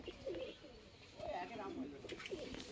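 Pair of golden pigeons cooing softly, a few low warbling coos among quiet background clutter.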